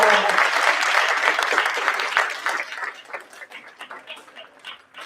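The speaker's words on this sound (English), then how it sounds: "Big round of applause for Cassandra." A crowd applauds at a special board meeting event, with dense loud clapping at first that thins into scattered individual claps and fades over about five seconds.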